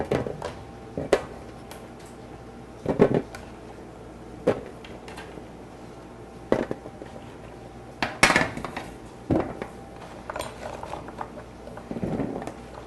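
Vegetables tossed onto a pan in a home kitchen, giving a handful of separate clattering knocks and rattles of metal spread across the stretch, close and moderately loud, with no talking.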